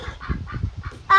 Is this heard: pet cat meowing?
no